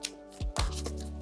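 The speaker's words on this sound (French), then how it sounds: "Plein de cartes qui tombent." A deck of tarot or oracle cards is shuffled so several cards spill and fall, giving two quick soft flutters and slaps close by, then a short riffle, fairly quiet.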